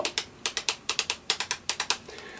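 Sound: tapping a rhythm on an object with a pen

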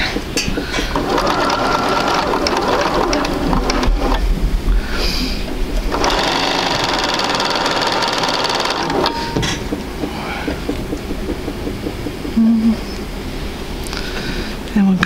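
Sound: sewing machine stitching quilt pieces

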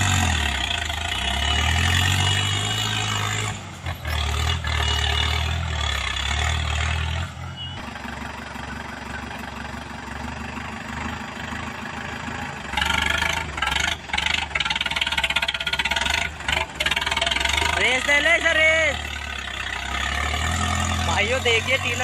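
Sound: Mahindra 585 DI XP Plus tractor engine running tiller

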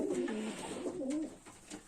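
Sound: pigeons cooing in a dovecote

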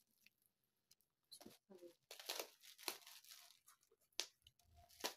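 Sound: opening a package of collagen drink

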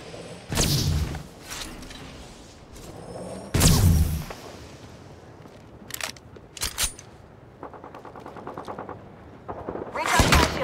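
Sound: gunfire in the video game Apex Legends

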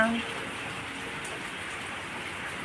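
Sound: rain falling

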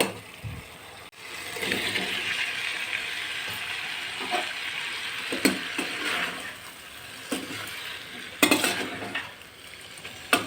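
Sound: noodles poured into a pan and stirred

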